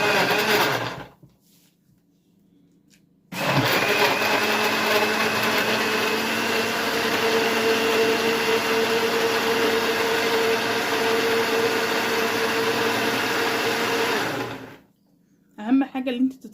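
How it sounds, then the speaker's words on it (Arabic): An electric blender grinds sugar and lemon in a loud, steady whir lasting about eleven seconds, starting abruptly after a quiet pause and cutting off sharply. "جيب بقى الخلاط"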